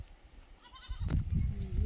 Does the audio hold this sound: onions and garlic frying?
no